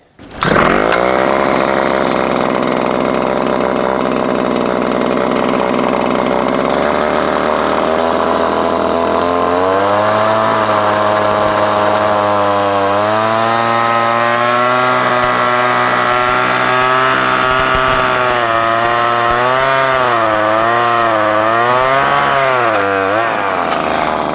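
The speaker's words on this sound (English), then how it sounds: "Then we'll gradually raise the drill up to the vertical position for our downward drilling." A Shaw Tool second-generation backpack drill runs loud and continuous while drilling downward, its motor whine rising and wavering in pitch as it labors under load, with no voices.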